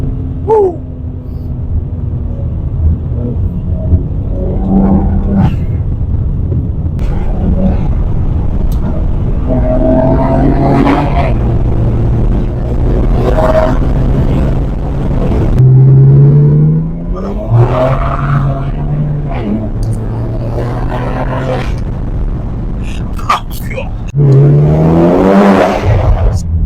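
A Stage 2+ tuned BMW 335i with the N54 engine accelerates hard through repeated rising engine pulls, heard from inside the cabin. Blow-off valve whooshes sound between the pulls, and voices can be heard now and then under the loud drone.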